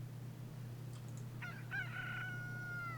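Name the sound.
chicken noises in Transport Fever video game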